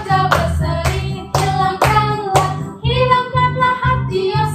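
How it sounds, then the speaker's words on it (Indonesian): Hands clap in a steady beat along with a sung children's worship song at a Sunday school service of HKBP Tangerang Kota church, the claps sharp and regular over the melody. "Tepuk tangan wajah berseri."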